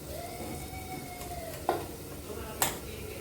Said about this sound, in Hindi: तो अब हम इसमें ये डाल देते हैं अपनी सब्जियाँ